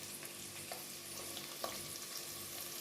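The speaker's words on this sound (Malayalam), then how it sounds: "അപ്പോൾ ഇനി നമുക്ക് സവോളയൊന്ന് നന്നായിട്ട് വഴറ്റിയെടുക്കണം" Onions sautéing in a pan for a Kerala squid roast give a steady, soft sizzle with a few faint stirring clicks, close by and without any voices.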